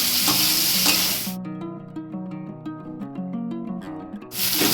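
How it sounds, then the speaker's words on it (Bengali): Fried prawns sizzling loudly as they are stirred into masala at the start and end, with a stretch of tuneful music filling the middle in place of the frying sound. "এবার আমি এতে ভেজে রাখা চিংড়ি মাছগুলোকে দিয়ে দেব। মশলাটা দিয়ে একটু কষে নেব।"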